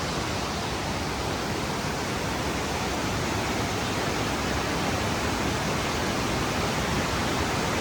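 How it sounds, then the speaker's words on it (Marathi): A waterfall pours at Dhutpapeshwar in heavy monsoon flow, a steady, dense broadband roar that holds evenly throughout with no break, loud and close, with no voices. "वरून बघा धबधबा वाहतोय तिकडे दिसतोय आपल्याला"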